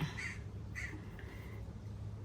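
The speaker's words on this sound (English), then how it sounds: "Click and a bird call." Two short crow-like caws ring out in quick succession, followed by a faint thin whistle, sounding as a bird call sound effect over a low steady hum.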